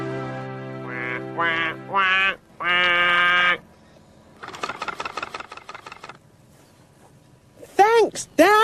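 A duck character on a children's canal-boat programme quacks in a quick run of nasal calls midway, with high-pitched character voices speaking before and after.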